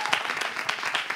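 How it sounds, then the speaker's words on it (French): A studio audience at a team game show applauds, brisk close clapping with sharp individual hand strikes standing out from the dense wash, no voices. "Franchement, applaudissez."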